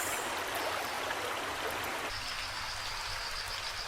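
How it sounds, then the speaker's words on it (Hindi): River water flows steadily with a soft, continuous rush, fairly quiet and even throughout, with no voices. "बहती हुई नदी की आवाज"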